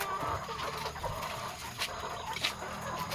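Chickens kept for eggs cluck and murmur nearby in a coop, with scattered louder squawks and some rustling over a steady low background.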